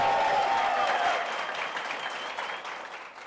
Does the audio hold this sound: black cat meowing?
no